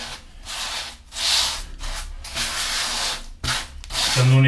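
A float spreads tile grout into the joints of a small tiled floor, making close, gritty scraping strokes in several repeated sweeps with short pauses. The strokes grow louder and rougher toward the end.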